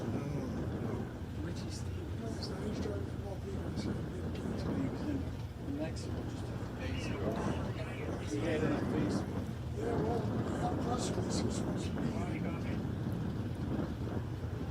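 A pro modified doorslammer drag racing car idles at the World Doorslammer Nationals, giving a steady, loud, rough rumble that runs throughout while a commentator talks over it.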